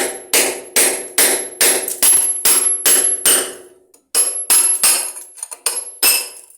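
A hammer beats a blunt cold chisel in a workshop, ringing metallic strikes falling in a steady, fast rhythm, close and loud, with one short pause before the blows resume.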